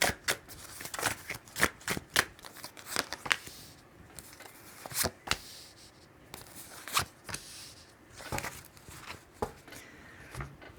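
Tarot cards being shuffled and drawn by hand, a run of crisp riffling and flicking bursts with short pauses between them, close and clear with no voices.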